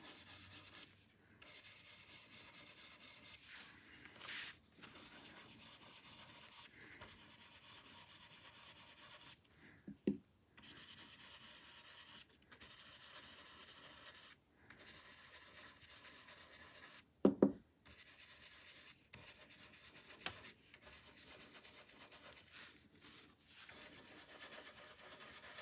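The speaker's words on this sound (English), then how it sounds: "I'm going to take the Festive Berries and my Bitty blending brush, and I'm just going to add some detail" A small blending brush rubs Festive Berries ink onto paper in soft, scratchy strokes that come in short bursts, quiet and close, with a few sharper taps between passes and no talking.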